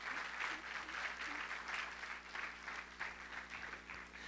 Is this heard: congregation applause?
yes